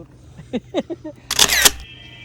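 A camera shutter clicks while a selfie is taken on a hiking trail in Sycamore Canyon, a bright burst of clicks following a few short vocal sounds, then a faint lingering tone.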